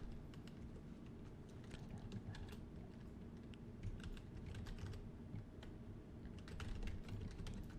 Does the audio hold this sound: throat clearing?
no